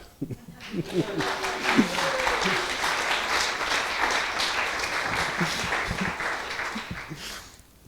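An audience at an evening history talk about trade unions applauds the organisers. Steady, moderately loud clapping rises after a brief spoken phrase, holds for several seconds, then tapers off.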